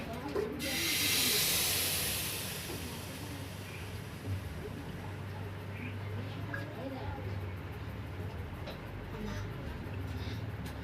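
Malai milk poured into a hot wok sizzles with a loud, bright hiss that swells for a couple of seconds, then settles into a softer steady frying crackle with a low background hum.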